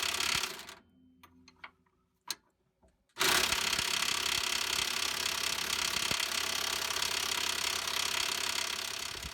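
Tools work at a stuck top bolt, starting with scattered ratchet-like clicks and short taps, then breaking into a loud, sustained mechanical grinding clatter that continues steadily to the end.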